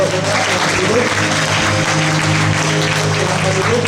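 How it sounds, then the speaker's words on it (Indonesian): A church congregation at a worship fellowship bursts into loud, dense applause, a close, continuous roar of clapping with a steady musical hum underneath. "Berikan tepuk tangan"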